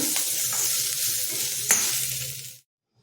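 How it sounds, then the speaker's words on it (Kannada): Ingredients for mangaravalli (asthishrunkhala) chutney roast in a pan with a steady, close hiss of frying and faint scraping of stirring, then cut off abruptly into silence near the end. "ಒಂದು ಸುತ್ತು ಹುರಿಯೋಣ"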